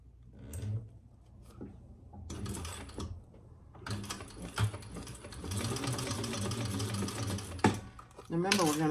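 A sewing machine stitches a crossbody bag in bursts, short runs first and then a long steady whirring stretch of rapid needle strokes, with brief pauses and handling sounds between.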